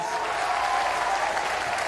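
Studio audience applause, a dense steady wash of many hands clapping at even loudness throughout, with no voices on top.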